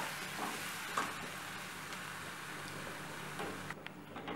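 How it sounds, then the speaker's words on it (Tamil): Onions and tomatoes sautéing in a pan for a South Indian kara chutney, giving a faint, steady sizzle with a few soft stirring scrapes, heard alone without talk. "இந்த வெங்காயமும் தக்காளியும் கொஞ்சம் நல்லா வதங்கணும்."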